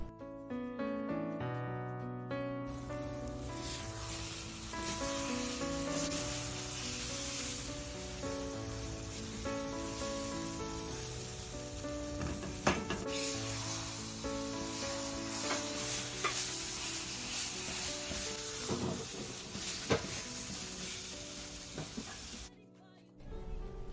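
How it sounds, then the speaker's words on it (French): Mashed avocado purée cooks over medium heat in a frying pan, with a continuous soft sizzle and crackle, background music playing throughout and occasional scraping from the stirring. "renversez la purée obtenue dans une poêle et portez au feu moyen en remuant régulièrement."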